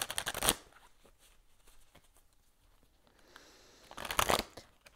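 Tarot and oracle cards, including a crystal angels deck, are shuffled close by in two quick riffling bursts, one at the start and one near the end, with soft card handling and light tapping between them.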